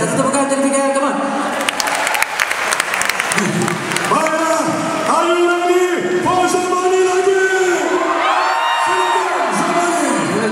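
A large crowd at a live music concert in Kuala Lumpur claps and cheers steadily, with whoops and shouts rising over the applause and a voice carrying above the noise.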